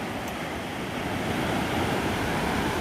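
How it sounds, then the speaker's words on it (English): Ocean waves roll and break steadily on a misty beach in the morning, a continuous loud wash of surf with some wind rumble and no voices. "But there's some nice waves happening out there."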